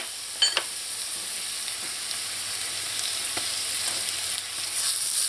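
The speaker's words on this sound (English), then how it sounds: "You just want to fry this until it starts to turn light brown." Onion, ginger and garlic fry in a pan with a steady, close, continuous sizzle, with a few faint utensil scrapes and clicks over the hiss; no one speaks.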